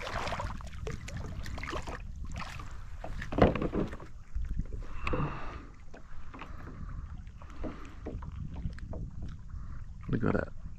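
Kayak paddling along a rock wall while fishing: rhythmic splashes and water swishes from paddle strokes, close by, with wind buffeting the microphone and occasional knocks against the hull.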